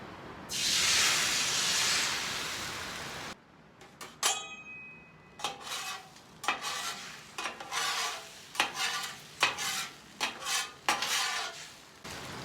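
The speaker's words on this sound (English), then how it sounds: "Want to make sure the eggs get cooked all the way through." Eggs crack onto a hot, slightly unlevel griddle and fry, starting as a loud steady sizzle, then a brief gap and a string of sharp spatula scrapes and taps on the metal surface, close by with no talking.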